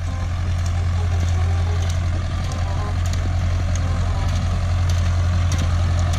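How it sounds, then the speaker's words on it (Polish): Tractor working a hay tedder across a field, a loud, close, steady engine drone with a heavy low rumble and faint rattling over the top, continuing unchanged throughout. "nagram wam kawałek z przetrząsania, tak jak widzicie"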